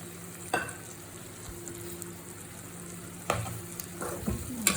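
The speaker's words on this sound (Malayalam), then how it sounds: "നല്ല കുറുകിയ തേങ്ങാപ്പാൽ ഒഴിച്ച് നമുക്ക് വറ്റിച്ചെടുക്കാമേ." Prawns cooking in a pan with thick coconut milk, giving a soft continuous sizzle and bubble, with a few sharp utensil scrapes and knocks near the start and the end.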